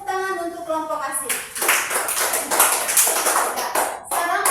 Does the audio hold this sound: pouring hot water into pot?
no